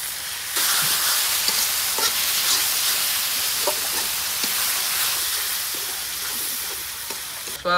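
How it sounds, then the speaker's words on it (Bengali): Spices fry with lightly browned onions in a pan, a dense close sizzle that starts abruptly and holds steady with occasional stirring scrapes and pops, no talking. "এর ভিতরে এখন আমি মশলাটা দিয়ে দেবো, মশলাটা ভাজার জন্য"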